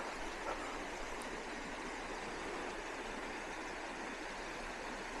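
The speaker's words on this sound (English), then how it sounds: "You can hear waterfall right over there." A waterfall and flowing water rush steadily in the distance, a faint, continuous broadband wash with no other sounds.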